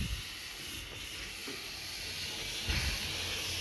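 Harbor Freight handheld steam cleaner blasting steam onto the underside of a mattress during bedbug treatment, a steady close broadband hiss that holds even throughout with slight surges.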